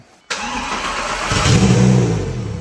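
A wrecked Lamborghini's engine cranks and catches after a brief silent moment, then settles into a loud, steady running roar that swells slightly as it picks up.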